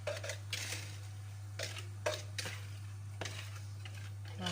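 Utensil stirring milk and a chocolate cream base in a pan, soft intermittent scrapes and clinks against the metal over a steady low stove hum, no talking.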